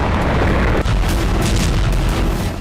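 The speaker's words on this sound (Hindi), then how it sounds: "पांचवा धमाका।" A loud, rumbling explosion in Crimea, one of a series of blasts, fills the whole clip, a dense roaring blast with a sharp crack partway through.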